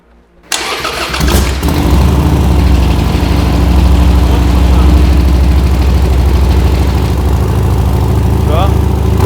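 A Harley-Davidson flat track motorcycle fires up abruptly and settles into a loud, steady, lumpy idle close by, with a voice briefly audible over the engine.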